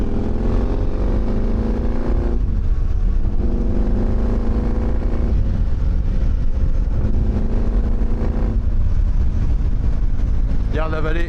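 Yamaha 750 XTZ motorcycle engine pulling on light throttle through a bend on a mountain road, a steady low drone with gentle rises and falls in pitch, loud and continuous throughout.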